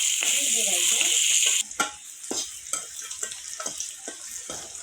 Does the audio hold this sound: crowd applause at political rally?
no